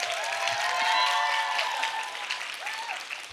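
Studio audience applause for a guitarist at a live music show, a steady dense wash of clapping lasting a few seconds with faint tonal sounds underneath.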